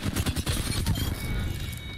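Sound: gunfire in the video game Apex Legends

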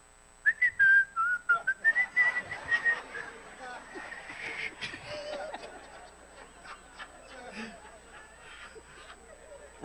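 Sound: voice imitating a whistling teapot

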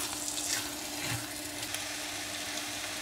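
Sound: stirring egg, spinach and prawn scramble in frying pan

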